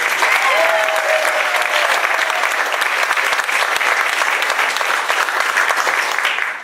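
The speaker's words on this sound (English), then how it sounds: "let's have a big round of applause for stand-up mental health and David." Audience at a stand-up comedy show for mental health breaks into loud, dense applause that holds steady for several seconds before tapering at the end.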